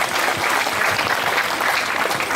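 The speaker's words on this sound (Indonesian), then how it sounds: "Tepuk tangan lagi untuk Daris." An audience at an Islamic boarding school alumni graduation ceremony claps together in steady, dense applause from many hands, filling the room evenly without a break.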